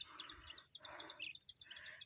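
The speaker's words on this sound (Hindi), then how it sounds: "चिड़िया बोल रही हैं।" Small birds chirp and tweet in quick, repeated bursts across a rural village field near a eucalyptus tree, faint and distant with no talking.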